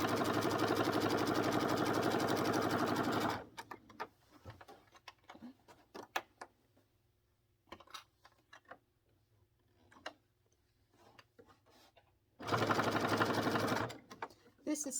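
A sewing machine stitches a long apron seam in two loud, steady runs, with quiet clicks and handling sounds between them.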